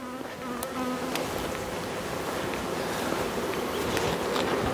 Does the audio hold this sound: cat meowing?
no